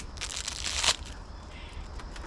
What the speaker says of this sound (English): I always break my spaghetti in half